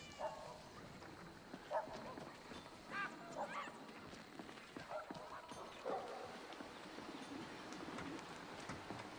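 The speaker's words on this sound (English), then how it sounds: "Now I hear dogs" Several dogs barking in Skyrim VR, short separate barks spaced irregularly over a steady low ambient bed, moderately distant and faint.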